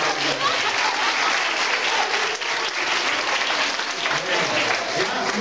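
Loud, sustained applause from a group of participants at a music recreation workshop, dense and even clapping filling the room for several seconds without pause.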